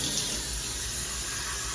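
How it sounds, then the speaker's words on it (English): A Cocojor Phiten ionic shower head sprays water with a steady, broadband hiss like a small waterfall, constant and close throughout, with no talk. "once you hear the hissing sound like a waterfall"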